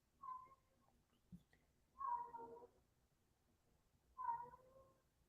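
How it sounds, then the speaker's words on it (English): A cat yowls three times in long, drawn-out wails spaced a couple of seconds apart, fairly faint, with quiet pauses between. "he does his cat howl for a while"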